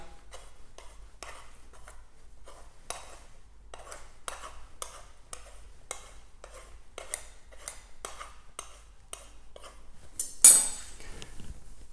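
A knife runs around the rim of a pizza tray, trimming off excess pastry: a steady series of light, sharp metallic clicks and scrapes at a regular pace, close and fairly quiet, with a slightly louder clatter near the end.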